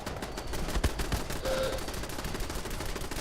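Automatic turret gunfire in the Fallout 76 video game, fired at scorpions: a dense, continuous stream of rapid shots and clattering bursts that runs the whole time, loud and busy, with no talking.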